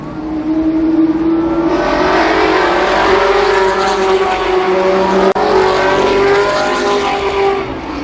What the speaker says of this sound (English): Rowenbeck gets some heat from Glick down the back straightaway.